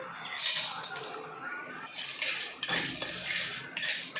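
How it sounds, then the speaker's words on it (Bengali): Chana dal and peanuts frying in a pan are stirred with a metal spoon, close scraping and clinking strokes in repeated bursts over a soft background hiss. "এখন আমি এই বাদামটাকেও ছোলার ডালের সঙ্গে ভালো করে একটু ভেজে নেব"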